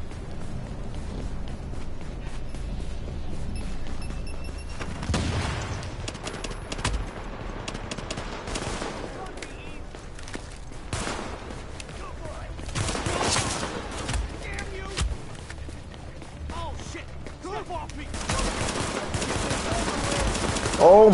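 Gunfire from a heavy-recoil weapon in The Division survival mode, rapid bursts of shots rattling on and off over a constant noisy background, with someone talking at times.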